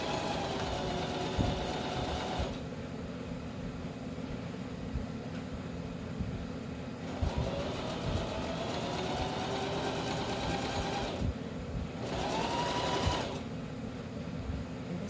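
A sewing machine stitches fabric, its steady mechanical whirr running in bursts that stop and start, with brief pauses and a slightly faster run near the end, no talk over it.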